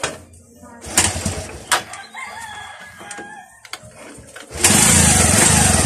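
A DC-drive motorcycle engine being started during troubleshooting, coughing to life and running steadily and loudly near the end. Speech and a crowing rooster are heard beforehand.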